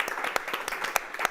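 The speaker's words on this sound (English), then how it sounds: "Let's have a round of applause." After a panel discussion on designing spaces for art, an audience claps briefly in a short burst of scattered, uneven handclaps, modest in volume.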